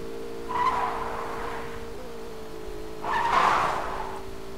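A car drifts in the mobile battle royale game Rules of Survival, with a steady engine drone and two rising tire-squeal swells, moderately loud with no talking over it.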